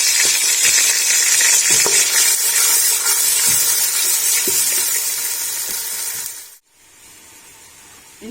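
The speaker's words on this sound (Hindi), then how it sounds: "अभी इसके अंदर हम डाल देंगे अदरक, लहसुन, प्याज का पेस्ट।" Ginger, garlic and onion paste sizzles loudly in hot cooking oil for dhaba-style kadhi, a dense steady frying hiss with faint stirring clicks that fades, cuts off abruptly, and leaves a quieter low sizzle.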